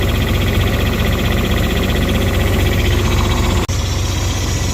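A truck's heavy diesel engine labours under the load of a trailer, a loud, steady low rumble with constant vibration throughout and one brief dropout near the end.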